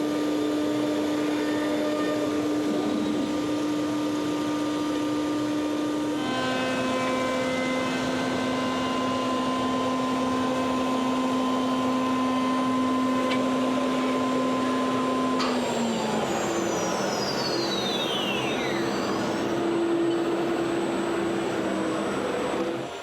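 A CNC router with a vacuum hold-down table cuts 3/4 inch bolt holes using a 3/8 inch flat end mill. A loud, steady mechanical whine shifts pitch partway through, then sweeps downward as the machine winds down near the end.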